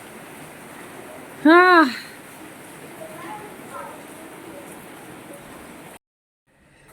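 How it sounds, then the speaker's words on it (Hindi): Heavy rain pours down outside a balcony as a steady, broadband hiss, with a woman's brief spoken word rising above it before the downpour cuts off abruptly. "ये देखिए कितनी तेज़ बारिश होने लगी।"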